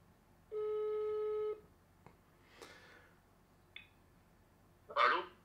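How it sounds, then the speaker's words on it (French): An outgoing telephone call, with a single steady ring tone lasting about a second, followed by faint handling noises and brief rustles nearby. "On va appeler Kenny rapidement"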